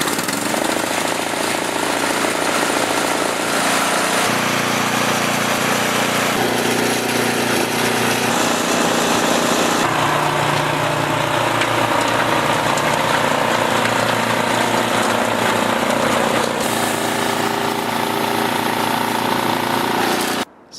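A snowblower engine with a freshly rebuilt auger gearbox runs outdoors, loud and close. Its steady mechanical drone shifts in tone a few times as the load changes, with no talking.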